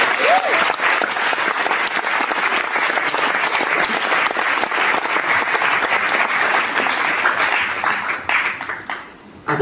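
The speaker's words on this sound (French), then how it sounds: "et puis merci pour Thomas Grubitsch, on peut l'applaudir." Sustained applause from a live concert audience in a Paris café, dense steady clapping near and loud throughout, thinning and fading out in the last second.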